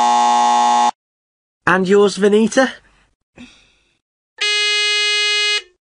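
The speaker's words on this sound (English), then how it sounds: "To answer, they press any button on their phone and we'll hear a buzzer." Quiz buzzers set off by pressing buttons on a phone: two long, loud electronic buzzes, one at the start and one near the end, with a brief spoken line between them.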